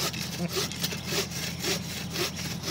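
Hand sawing through wood with a steady back-and-forth rhythm of rasping strokes, close and continuous, with no speech over it.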